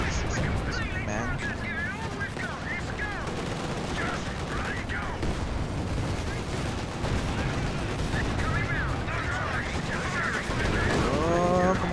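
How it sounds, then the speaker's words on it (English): Artillery fire and battle explosions in the Company of Heroes 2 video game roar as a dense, continuous barrage for the whole stretch, loud and steady with overlapping booms. "Oh my god, that's artillery."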